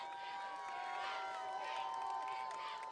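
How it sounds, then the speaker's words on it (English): A varsity high school football game crowd cheering and shouting continuously from the stands, a steady distant roar with a sustained whistle or horn tone running through it. "Crowd making a lot of noise here for Scituate."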